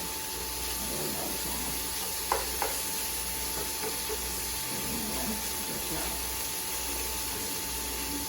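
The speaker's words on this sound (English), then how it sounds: "And so she's going to saute that up." Shrimp sauté in a hot pan, giving a steady, close frying sizzle and hiss with a couple of brief stirring knocks.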